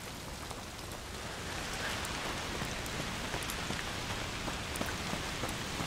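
Steady heavy rain falls across the scene in the video game A Plague Tale: Requiem, a dense continuous hiss of drops spattering on surfaces with small sharp splashes throughout, with no voices.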